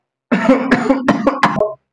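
A run of about five sharp, close coughs in quick succession, loud and raspy, with no talking.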